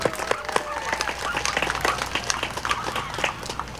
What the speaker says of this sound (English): One more round of applause, everybody.